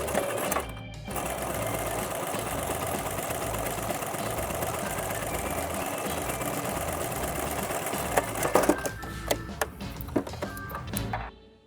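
A sewing machine runs a zigzag stitch along a fabric edge on a Mary Quant-style minidress, a rapid continuous mechanical whir heard close, pausing briefly near the start and ending with a few clicks and taps.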